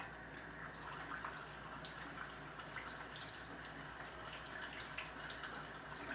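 A tap runs steadily into a sink as someone waits for the water to turn hot, a constant faint hiss and splash with no talking.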